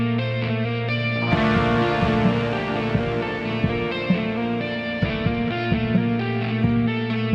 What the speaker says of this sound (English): It's a synth type of sound that comes in right there and it just rings out.